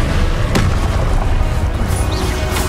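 A Confringo spell explosion in the video game Hogwarts Legacy, a loud, dense, rumbling boom that fills the whole stretch, with a sharp crack near the start and no one talking.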